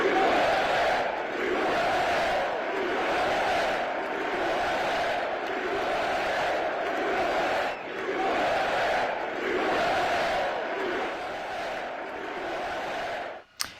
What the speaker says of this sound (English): the crowd at Wells Fargo Center seemed to overwhelmingly approve of Trump and his agenda